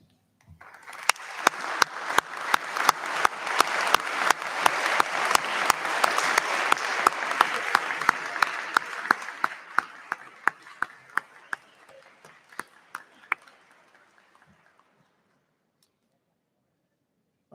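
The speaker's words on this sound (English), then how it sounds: "please stand for a well-deserved round of applause" A standing crowd of families and supporters applauds graduates at a Newberry College December commencement, a loud, sustained wash of clapping that swells, then thins into scattered claps and fades out over about fifteen seconds.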